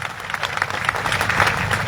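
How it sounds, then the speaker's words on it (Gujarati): Applause from a crowd at a farmers' hunger-strike protest gathering in Jetpar, Morbi, a brief burst of dense clapping that swells slightly toward the end, with no voices over it. "તો આ જેતપુરના યુવાનો, વડીલો, મિત્રો બધા માટે એકવાર જોરદાર તાળીઓ વગાડજો."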